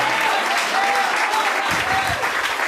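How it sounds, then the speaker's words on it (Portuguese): A church congregation bursts into loud, continuous applause, a dense wash of clapping from many hands lasting a few seconds with a faint voice or cheer within it. "Quem recebe, aplaude e glorifica Jesus."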